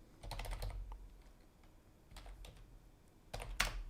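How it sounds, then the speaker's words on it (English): Someone types on a computer keyboard while looking up a term, fast bursts of close key clicks separated by brief pauses, with no talking. "A little bit long to type."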